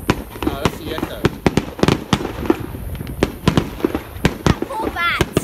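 New Year's Eve fireworks in Campbelltown, New South Wales, Australia crack and pop in a rapid irregular series, some sharp and close, others softer, with people chattering in the background.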